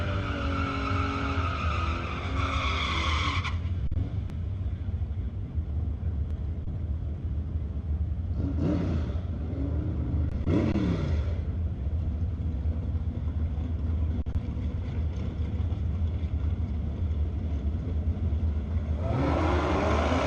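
A Chevrolet Camaro drag races down the quarter mile at a division ET finals drag strip: a loud, deep engine rumble runs throughout, with rising rev sweeps near the start and brief bursts later on, and no talk.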